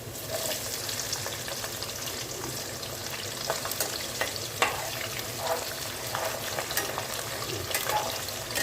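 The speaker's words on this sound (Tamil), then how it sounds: "இப்போ நம்ம சாம்பார் வெங்காயம் சேர்த்துக்கணும்" Sambar onions fry in hot oil with a dense, continuous crackle and sizzle, broken by occasional scrapes of a stirring spoon, steady and close with no voices.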